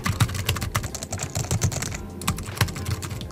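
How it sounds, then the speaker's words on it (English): Quick, fast-paced typing on a Lenovo computer keyboard, a dense run of close, crisp key clicks with slightly clicky keys, heard alone without talk. "Just for reference, here is my Lenovo keyboard."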